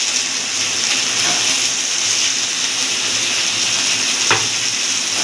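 Chopped tomato dropped into hot oil with browned onions for a tilapia curry sizzles and fries steadily, a constant crackling hiss with a couple of brief stirring scrapes, no talking.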